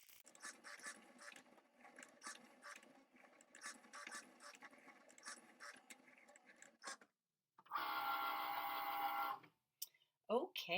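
A Cricut cutting machine cuts a design for wood stocking tags: rhythmic whirring and ticking carriage moves for several seconds, then a loud sustained motor whine, near and clear.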